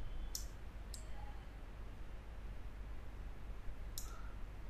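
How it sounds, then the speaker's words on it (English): Computer mouse clicks while editing in Lightroom: three crisp, close clicks, two in quick succession and one a few seconds later, over a steady low room hum. "click on OK."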